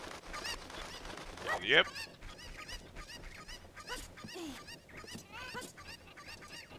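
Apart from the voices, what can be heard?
cucco chickens clucking in the video game Zelda Ocarina of Time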